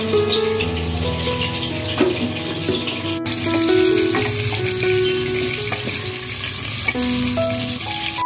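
Potatoes frying in oil, a loud continuous sizzle with clattering and scraping of utensils and a sharp knock partway through, close and without speech.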